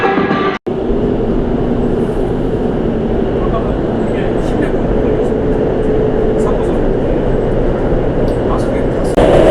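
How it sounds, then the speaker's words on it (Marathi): Steady loud rumble of an underground metro train in motion in Seoul, a continuous roar of wheels and cabin noise with a brief cut near the start. "हे अंडरग्राऊंड मेट्रो आहे मित्रांनो"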